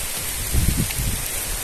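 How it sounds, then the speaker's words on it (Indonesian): Steady rain falls outdoors at a swamp while eel fishing, a dense broadband hiss with a few soft low thumps near the middle and no talk. "Hujan, guys, keburu hujan, guys."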